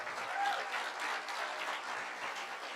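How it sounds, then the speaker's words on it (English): Sustained applause from an audience at a Black Barbie film discussion event, many hands clapping at an even level throughout. "Can you give all those sponsors a hand clap?"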